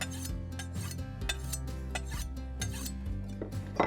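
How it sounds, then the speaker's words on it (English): A knife blade drawn across a fine ceramic sharpener in repeated short rasping strokes, close and fairly quiet, with a low steady hum underneath. "I'm going to sharpen a little on the finer ceramic."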